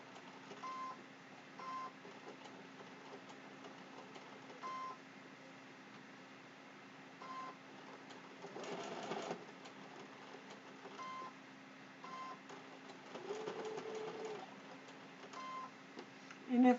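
Sewing machine stitching a Halloween placemat applique, a soft, steady mechanical whir with a low hum and brief surges as the stitching speeds up, faint and continuous throughout.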